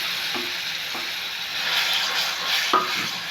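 Mashed banana with a pinch of turmeric sautéing in a pan over low heat, giving a steady soft sizzle with a few clear scrapes of a utensil stirring it.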